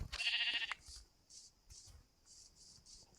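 A Minecraft sheep gives one loud, nasal bleat up front, followed by a string of faint, short rustling clicks of game steps and movement.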